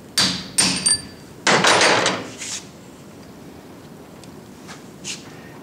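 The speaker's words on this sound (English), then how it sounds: "Brass drift, ball peen hammer." A ball peen hammer taps a brass drift against a workpiece in a home machine shop, a few sharp close metallic knocks in quick succession followed by fainter taps, with no talking.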